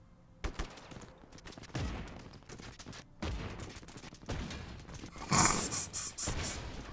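Explosions in Just Cause 3, a string of sharp blasts spaced a second or so apart, followed near the end by a rapid cluster of louder bangs close together, with quieter rumble between.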